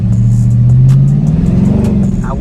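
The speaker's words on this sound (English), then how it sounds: "Here's this exhaust." A car with a Toro Red mid muffler delete revs in sport mode, loud close exhaust rising in pitch then settling into a rumbling burble.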